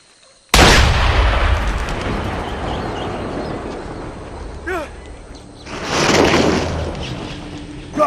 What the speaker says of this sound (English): Fire off a shot!